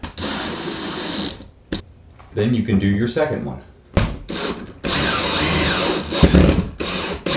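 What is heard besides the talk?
power drill driving screws into wood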